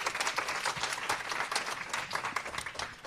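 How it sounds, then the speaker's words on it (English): Round of applause from an audience at a startup founder event, continuous crisp clapping from many people, moderately close and steady throughout. "Let's give Ulla a big round of applause."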